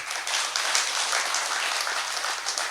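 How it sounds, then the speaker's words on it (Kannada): Sustained audience applause at a Guru Vandana felicitation event, dense steady clapping from a crowd that holds at an even level throughout with no talk over it. "ಜೋರಾದ ಚಪ್ಪಾಳೆಯನ್ನು ಕೊಡಿ ಅವರಿಗೆ"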